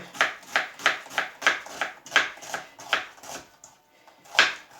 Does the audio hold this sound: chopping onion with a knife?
yes